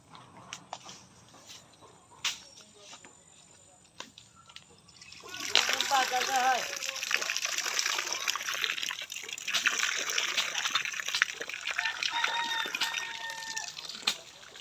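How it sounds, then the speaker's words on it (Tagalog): Water gushes and splashes from a newly installed faucet at a house under construction, starting abruptly after some quiet moments and pouring loudly and steadily, with people talking nearby. "Nakikita niyo po na maraming tubig na lumalabas sa aming gripong pinagawa."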